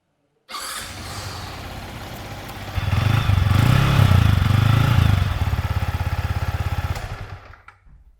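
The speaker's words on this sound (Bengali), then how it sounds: "চলুন তাহলে এবার আমরা দেখে নেবো এই বাইকটার এক্সস্ট" A 2024 Yamaha MT-15 motorcycle engine starts up close, idles with a steady exhaust burble, revs louder for a few seconds, then settles back before cutting off.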